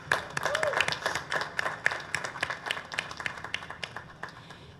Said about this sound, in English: Let's show our appreciation with a warm round of applause.